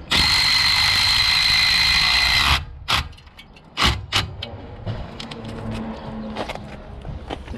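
A small impact wrench with a 15mm socket works on the front anti-roll bar drop link of a 2013 BMW F30, a loud sustained whine for about two and a half seconds, then sharp clanks and quieter workshop noise.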